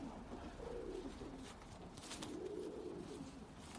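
Pakistani pigeons in a loft in Luton, England, coo softly in two drawn-out low calls over a steady background hiss, faint and somewhat distant, with no one speaking.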